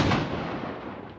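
A shotgun blast during wing shooting of birds in Africa, a single sharp report that fades into a rolling outdoor echo.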